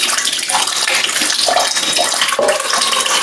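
Water pours steadily from a hose into a glass bowl, a continuous, close, bright splashing rush with no break and no voices.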